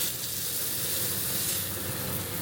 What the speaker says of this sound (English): So you give this side a little sear.